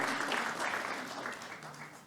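Applause from the audience at the 22nd India SME Excellence Awards ceremony, a soft but steady wash of clapping heard from a distance with no voices over it.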